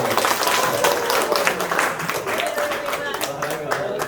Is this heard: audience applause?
yes